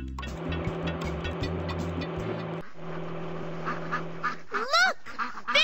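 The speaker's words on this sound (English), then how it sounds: "Look! Baby ducks! Los patitos! Those baby ducks are blocking the road." Baby ducks quack loudly in a Dora the Explorer ride-along game, a cluster of sharp, rising quacks near the end over a busy layer of game music and effects.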